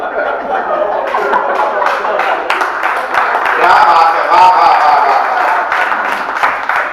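An audience at a Hindi poetry recital claps and chuckles, a sustained wash of applause mixed with scattered laughter, moderately loud with voices underneath.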